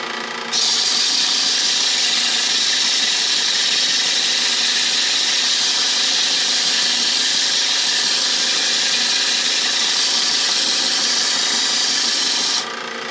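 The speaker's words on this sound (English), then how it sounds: "So I just kind of drilled it out and stepped up the size until we made a nice clean hole" Steady, loud power drill grinding into metal while boring out a broken bolt on a CRX, running continuously for about twelve seconds with no pauses and no talking.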